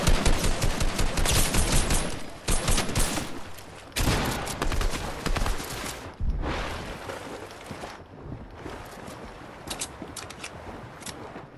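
Rapid gunfire from a Fortnite match, dense automatic bursts that fill most of the span with brief gaps between volleys, loud and close.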